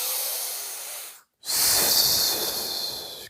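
Heavy breathing, loud and close: a long breathy exhale, a brief silence, then another long rushing breath with a hissing edge.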